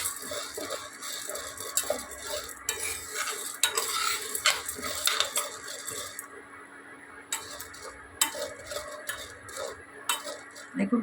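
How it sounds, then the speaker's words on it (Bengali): Sago pearls simmering in milk are stirred constantly in a pot, with repeated scraping and clinking of the spoon against the metal over a soft bubbling hiss, steady and close. "একদম কন্টিনিউ নাড়তে হবে"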